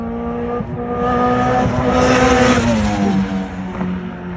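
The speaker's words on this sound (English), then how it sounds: "that little car is too fast" A turbocharged Honda Civic EG with a stock-sleeve B18B engine revs hard and climbs in pitch as it accelerates quickly on the street, loud and close, with a rising whine that shifts near the end.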